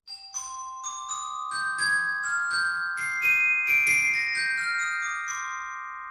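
Bright, ringing metallic glockenspiel notes struck one after another in a slow melody, each tone sustaining and overlapping with a clear, shimmering decay.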